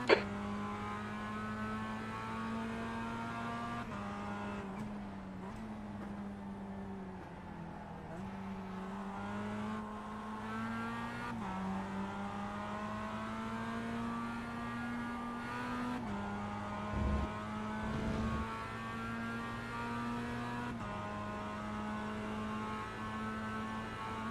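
Mazda MX-5 race car engines in an iRacing race, a steady, loud drone of several cars running close together, with pitch rising and falling through gear changes and a brief louder burst near the middle, no talking.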